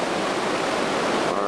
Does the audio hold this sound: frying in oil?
no